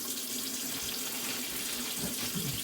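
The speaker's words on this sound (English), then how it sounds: "The first wash, I usually start off with warm water. Second and third wash, I go with cold water." Tap water runs steadily into a kitchen sink while collard greens are washed, a close, continuous splashing hiss with no talking.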